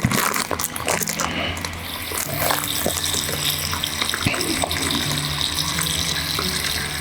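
Water pours and splashes into a bowl of freshly cut potato chips at a camp cooking setup, a steady close trickling and bubbling that runs throughout with no one speaking.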